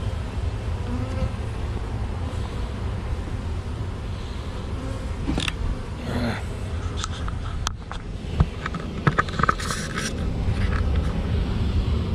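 Bees buzz around a hive in a bee yard where new swarms have been added, a dense, steady drone close by, with a few scrapes and knocks near the end.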